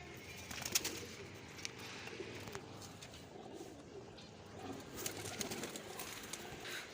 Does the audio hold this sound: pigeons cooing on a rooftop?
yes